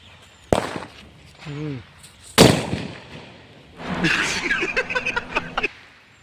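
A Diwali firecracker, buried under a pile of stones, bursts with two sharp loud bangs, then a rapid run of crackling pops. Voices talk in between.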